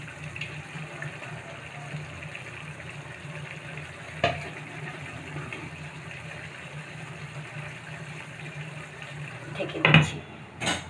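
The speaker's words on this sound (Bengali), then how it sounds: "এখানে আমি মাছ ভেজে রেখেছিলাম, তো এই মাছগুলো আমি এখন তরকারির মধ্যে দিয়ে দিচ্ছি।" Fried fish going into a simmering curry: a low steady sizzle and bubble, broken by a soft clunk partway through and a sharper cluster of pan clatter near the end.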